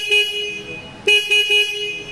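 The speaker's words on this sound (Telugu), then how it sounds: "హార్న్ యొక్క లౌడ్నెస్ అనేది ఒకసారి చెక్ చేద్దాం." A 2024 Bajaj Pulsar N250 motorcycle horn sounds in short, loud, close honks: one brief blast, then two quick ones about a second later.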